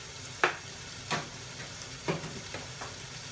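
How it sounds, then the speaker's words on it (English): Chicken korma curry sizzling and frying in a pan, stirred in four or five distinct scraping strokes spaced about a second apart over a steady low frying hiss, close and fairly quiet with no talking. "So stir every couple of seconds, just so it's evenly cooking."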